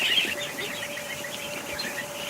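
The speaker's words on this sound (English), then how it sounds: "I definitely hear a duck trying to quack." A young duck gives a brief, immature quack amid high peeping from other ducklings in a yard, close and steady with a faint hum underneath.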